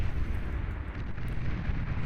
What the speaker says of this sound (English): Our last hope is the Cerberus cannon, firing devastating plasma projectile shots